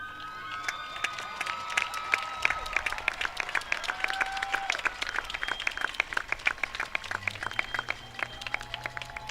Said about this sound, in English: students wearing the recognition cords, please stand for applause